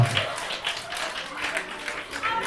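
Wedding guests applaud and cheer the winner of a Twister party game, a steady wash of clapping running the whole time beneath an announcer's voice.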